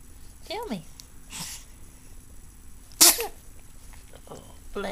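A baby sneezes once, a sharp loud burst at close range indoors, with soft babbling before it and an adult voice nearby.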